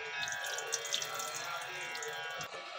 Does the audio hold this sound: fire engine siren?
no